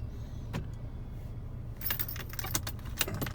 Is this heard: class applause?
no